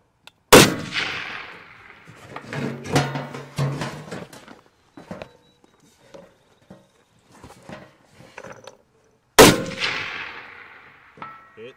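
Two sharp, loud AR-10 rifle shots several seconds apart at a steel target on an outdoor range, each with a ringing crack and decay, with scattered clattering and faint movement noises between them.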